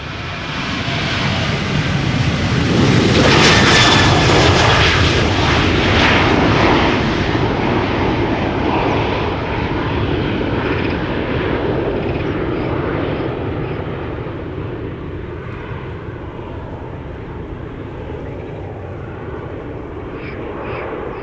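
An El Al jet airliner roars loudly at takeoff power at Schiphol's Polderbaan runway, a broad rumbling thrust that swells early then slowly fades as it climbs away.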